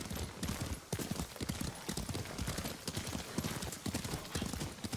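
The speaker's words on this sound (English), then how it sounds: "Lord Sakai taught me to ride a horse" Steady clip-clop of horse hooves at a brisk riding pace in the video game Ghost of Tsushima, continuous and fairly close, with faint background sounds mixed in.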